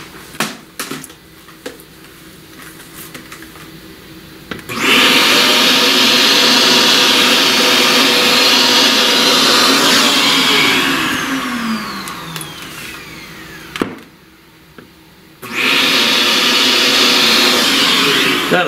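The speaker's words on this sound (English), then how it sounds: "Vacuum." Vacuum cleaner used to clear charcoal dust while drawing, switching on loud and steady near the mic with a pitch sweep, cutting off briefly, then roaring again; quieter handling noises precede it.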